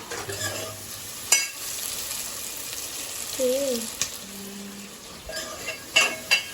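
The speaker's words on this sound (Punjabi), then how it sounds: "ਇਦਾਂ ਬਣ ਜਾਂਦੀ ਕੜੀ ਤੇ ਉਦੋਂ ਤੱਕ ਹਿਲਾਈ ਜਾਣਾ ਹੈ ਜੇ ਕਿਤੇ ਫਟ ਨਾ ਜਾਵੇ" Kadhi made with lassi is stirred in a pot: soft scraping and swishing strokes with a few sharper clinks over a low sizzle, with faint, brief voices in the background.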